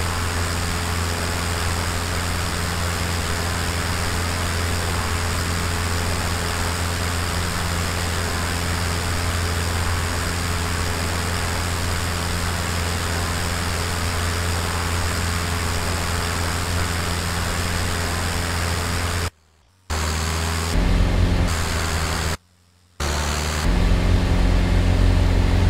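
A Piper J-3C-65 Cub's small piston engine drones steadily in flight in Microsoft Flight Simulator, a continuous loud hum with low tonal bands, briefly cut out twice near the end.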